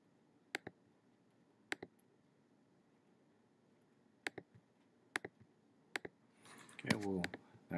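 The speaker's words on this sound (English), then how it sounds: "Just clicking away a little bit, just trying to make things a little nicer." Sharp computer mouse clicks come one or two at a time at an unhurried pace while a photo is edited to remove red eye, followed by a burst of nearby speech.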